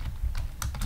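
Code being typed on a computer keyboard: a quick burst of close, clicky keystrokes over about a second, with no talk.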